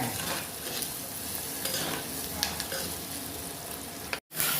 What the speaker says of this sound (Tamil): வெங்காயம் பச்சை மிளகா எல்லாம் நல்லா வதங்குது